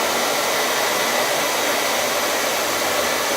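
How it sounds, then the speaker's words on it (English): A hair dryer blows steadily and loudly up close while bangs are styled with a round brush, an unbroken roar of airflow with no voices. "I just take the round brush, I stick it in here, and I blow this direction just here."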